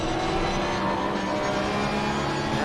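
Several GT3 race cars roar around Brands Hatch in a racing video game, a steady dense wall of engine drone and tyre noise that holds at constant loudness with no talk over it.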